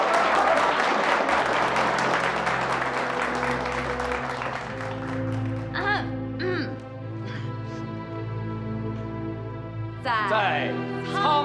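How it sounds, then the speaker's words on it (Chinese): A crowd of comrades and villagers claps loudly for a few seconds in a wartime drama scene, a dense burst of applause that then fades as music and a reciting voice take over. "大家掌声鼓励！"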